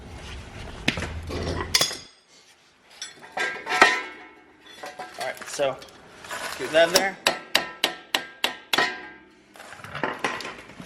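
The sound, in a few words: hammering a Mitsubishi rear axle to remove the wheel bearing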